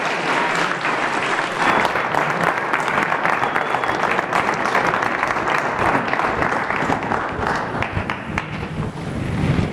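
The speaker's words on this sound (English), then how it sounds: "Let's give them a big round of applause and thank you." Sustained applause from a forum audience welcoming an interviewer and the CEO of Book Trust, dense and steady throughout, loud and fairly close, with no speech over it.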